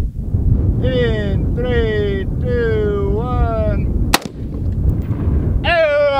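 A single sharp, loud .50 caliber rifle shot is fired outdoors at a watermelon, a sudden booming crack amid wind noise, with drawn-out vocal sounds before the shot and again just after.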